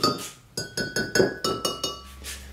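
Fired bisque pottery tapped by hand, about seven sharp ringing clinks in a quick, fairly even rhythm, close and clear with a short ceramic ring after each tap, no talking.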